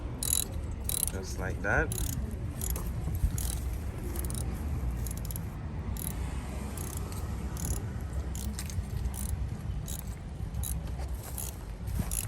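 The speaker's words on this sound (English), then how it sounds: "So just ratchet it back and forth." A ratchet worked back and forth on the battery terminal of a Volkswagen CC, rapid repeated clicking strokes close up over steady background noise, with a brief voice.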